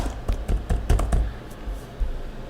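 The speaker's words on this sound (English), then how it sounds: "then I will type Washington County again" Keystrokes on a computer keyboard tapping out a short phrase into a search field, a quick irregular run of close, crisp clicks with brief pauses between bursts, no talking.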